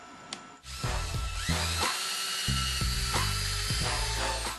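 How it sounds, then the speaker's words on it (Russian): Electric drill boring a starter hole through a wooden workpiece for a handmade wooden clock, a loud steady whine with the motor pitch dipping and recovering several times as the bit bites into the wood, close up with no talking. "В углу просверлим отверстие."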